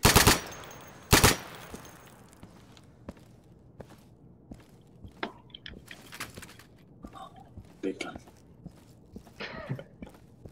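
Machine gun fire in the video game Insurgency: a couple of loud close bursts at the start, then scattered sharper shots and footsteps, with a player talking briefly.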